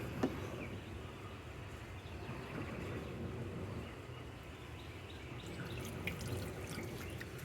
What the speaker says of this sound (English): Got some water coming out there, drizzling.